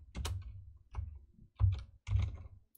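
Four short bursts of keystrokes on a computer keyboard while code is typed, close and quiet clicks with brief pauses between each cluster, no talk.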